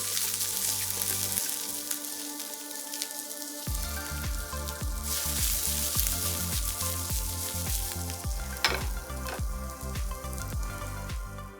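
Red and green capsicum are stir-fried with aromatics in a hot pan, making a loud, continuous sizzle with rhythmic scraping and tossing strokes of a spatula repeating roughly every half second, after a short quieter start.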